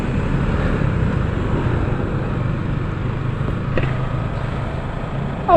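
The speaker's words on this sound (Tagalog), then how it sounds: "ano yan, mga motor taxi mga yan." Motorcycle taxis pass on a street, heard as a steady, moderately distant engine drone and road rumble with a brief louder swell partway through; no speech.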